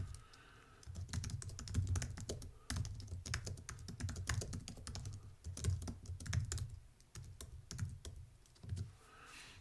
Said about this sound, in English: So I'll type some text here.